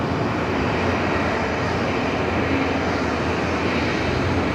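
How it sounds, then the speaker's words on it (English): An Alliance E-Jet departs Brisbane Airport with a loud, steady, broadband jet roar that holds level throughout, with no other sounds standing out. "we've got our first Alliance E-Jet heading out for departure here this afternoon"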